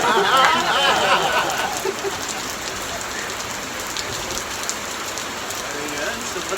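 Steady rain falls outdoors during a Philippine downpour, a continuous close hiss of drops hitting surfaces from start to end, with a voice briefly audible at the opening.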